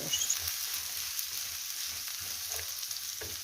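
Chopped onion stewing and frying in a pan until translucent, ready for minced meat in a casserole; a steady close sizzle with soft stirring scrapes and no voices.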